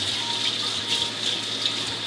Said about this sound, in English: you will turn the hot water back on and rinse off all of the soap